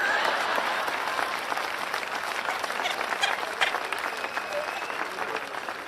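Audience applause rises at a Hindi comedy and satire performance, a sustained wash of clapping from a crowd that gradually thins slightly toward the end, with faint voices beneath.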